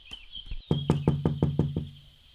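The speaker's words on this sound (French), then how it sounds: "Il frappa à la porte." Knocking on a wooden door: about six firm, evenly spaced raps, close and loud, over a steady faint tone.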